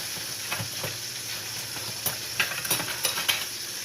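Sausages frying in a pan give a constant hiss and sizzle, broken by a few scraping clicks and taps as they are moved around, with no talking.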